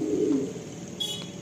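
A pigeon gives a short, low, throaty coo at close range, with a faint high tone near the end.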